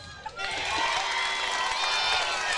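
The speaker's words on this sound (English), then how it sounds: "The Gisborne crowd erupts once more" A netball grand final crowd, with Gisborne supporters, swells into sustained cheering and applause, a dense roar that builds after a brief dip and holds to the end, with a commentator's voice over it.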